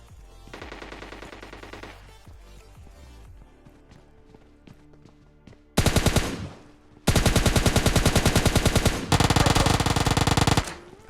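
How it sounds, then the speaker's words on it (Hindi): Automatic gunfire rattles in PUBG Lite, first a short burst, then scattered single shots, then long loud rapid-fire bursts close by, with footsteps in between. "अब यहाँ पे मैंने ना कुछ ज्यादा ही फ्री फायर दे दी, मतलब एमओ खत्म हो चुका था"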